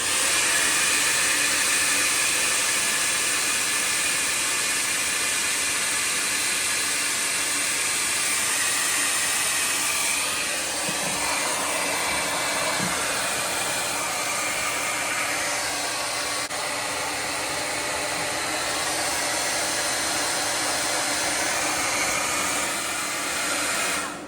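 A hair dryer blows steadily with a loud, continuous airy whoosh that holds nearly unchanged throughout, with no voices, running off an OUKITEL P2001 Plus portable power station.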